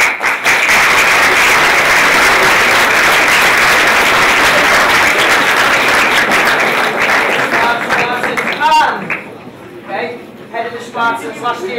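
An audience at a school drama performance applauds a performer with loud, sustained clapping and cheering for about nine seconds, then it dies away as voices talk over the last few seconds.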